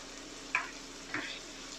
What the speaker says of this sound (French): Voilà, vous entendez, le tourne-dos est bien saisi.